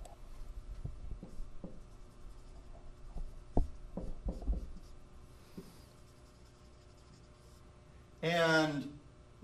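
A pencil or pen writes out music part writing by hand, giving soft scratchy ticks and taps in an irregular rhythm, close and quiet. A brief louder sound near the end breaks in over the writing.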